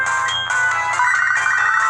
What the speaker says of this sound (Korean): 어, 전화 왔네.